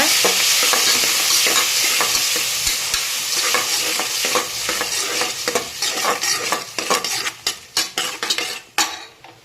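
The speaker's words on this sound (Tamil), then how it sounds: "அந்த தக்காளியை இதில் போட்டுக்கோங்க நல்லா வந்து வதக்கி விடுங்க" Tomatoes sizzle and fry in a pan while a utensil scrapes and stirs steadily, with sharper clinks of metal toward the end.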